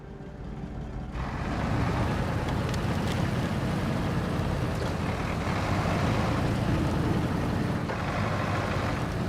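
A truck engine in the MudRunner off-road driving game fires up about a second in, then settles into a steady, loud rumbling drone as the vehicle drives off, with no talking.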